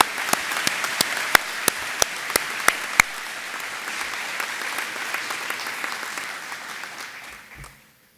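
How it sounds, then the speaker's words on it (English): An audience applauds at a school leaving-class ceremony in a hall, dense sustained clapping with a few sharp nearby claps early on, holding steady before quickly tapering off at the end. "could we please also offer a round of applause to Ms."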